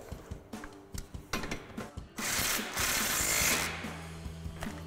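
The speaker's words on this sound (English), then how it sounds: "we can take our 15mm socket and tighten that down" Ratchet clicking while a 15mm socket tightens a bolt on a 2005-2014 Ford Mustang during a coil-over suspension install, irregular close mechanical clicks and a brief burst of louder, noisier work, no talk.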